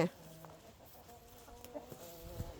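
Backyard egg-laying hens cluck softly in short, scattered calls on a farm, with a brief louder burst at the start and faint low background noise throughout.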